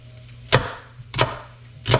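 Three sharp, evenly spaced knife strikes on a wooden cutting board as an onion is cut into dice, each chop a close, crisp thud with short gaps between.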